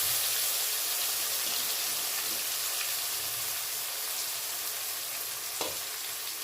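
Sliced onions sizzle steadily in hot oil with cinnamon and cardamom, a continuous close frying hiss with faint stirring scrapes and no voices.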